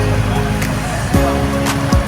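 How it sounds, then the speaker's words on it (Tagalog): Waves wash against the shore at Barangay Badas in Mati, a continuous loud rush of surf with some wind and a few brief noisy bursts, heard up close. "yung baybayin na sa Barangay Badas pa ito"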